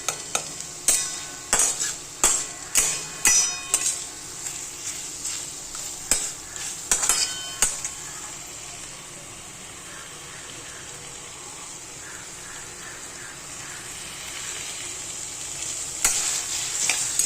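Chicken curry masala roasting in oil until the oil separates: a spatula scrapes the pan in quick rhythmic strokes, then a steady close sizzle carries on alone with a few later clanks.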